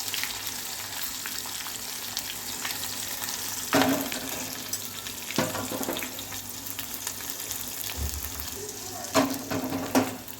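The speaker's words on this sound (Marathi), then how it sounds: "तेल पण छान भाजून घ्यायचे तडतडूपर्यंत." Green chillies fry in hot oil with a constant crackling sizzle, close and fairly loud, punctuated by occasional knocks and stirring clatters of utensil against pan, with no speech.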